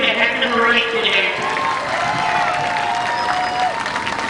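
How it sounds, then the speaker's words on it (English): Speedway grandstand crowd applauds and cheers for a driver at a night race, a broad, sustained wash of clapping mixed with an announcer's voice and tonal PA or engine whines over the top. "give him a round of applause"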